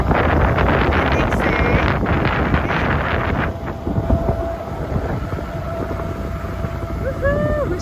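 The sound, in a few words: wind picking up while motor sailing on a sailboat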